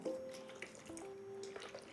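Chia seeds being stirred in water, giving soft wet liquid swirls and small drips that sound close by and fairly quiet, with a faint tonal ring from the container running alongside.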